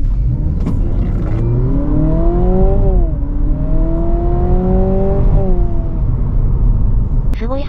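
Honda Civic e:HEV hybrid accelerating at full throttle from low speed, engine note rising in smooth sweeps with a brief dip in between, heard from inside the cabin as a steady loud rumble.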